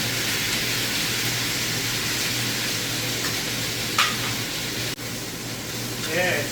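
Butter sizzles and browns steadily in a hot pan while cooking a carnivore beef pot roast with gravy, a constant close frying hiss with faint clinks near the end.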